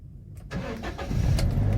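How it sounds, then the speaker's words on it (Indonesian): A 2007 Toyota Kijang Innova G manual is started: a brief starter crank after a moment of quiet, then the engine catches and settles into a steady, close idle. "Oke, sekarang kita hidupkan mesinnya."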